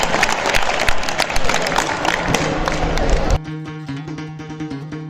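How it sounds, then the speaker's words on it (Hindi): Dense applause from an audience at a school farewell event for transferred teachers fills the first three seconds, then cuts off as music starts. "जोरदार तालियों से स्वागत कीजिए हमारे विद्यालय के छात्रों का"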